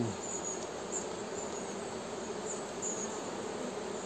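A wild honeybee swarm being transferred into a hive buzzes steadily, a soft, even drone that continues unbroken from start to finish with no voices.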